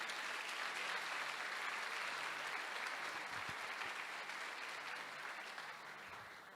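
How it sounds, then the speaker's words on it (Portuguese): A church congregation claps steadily and loudly, a dense wash of applause that continues evenly throughout and tapers slightly at the end. "Você pode aplaudir e glorificar o nome do Senhor?"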